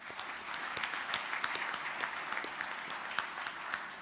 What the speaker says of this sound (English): could we give Nelson Mandela a round of applause?